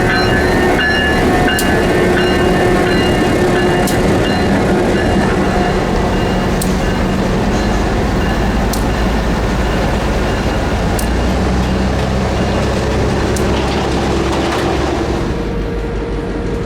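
Florida Central railroad GP11 diesel locomotive of close to 2,000 horsepower rolling steadily past, a continuous loud rumble of engine and rail noise with regular clicking wheel beats over joints, no voices.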